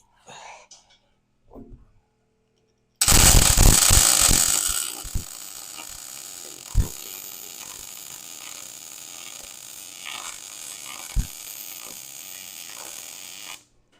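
A welding bead is laid on a custom English wheel built from an old bandsaw: a steady, close crackling buzz runs for about ten seconds after a few brief quiet clatters, with occasional sharper pops.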